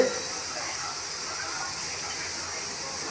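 Pressure cooker with toor dal and tomato letting off a steady, close hiss of escaping steam that runs unbroken and fairly loud through the whole moment.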